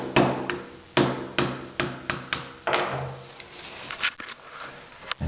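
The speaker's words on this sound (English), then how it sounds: "When I get underneath it with your chisel, and then just strike at it." Hammer blows on a chisel prying up loose ceramic shower tile, a series of sharp, close metallic strikes in uneven rhythm, each ringing briefly, with a few lighter taps and scraping between.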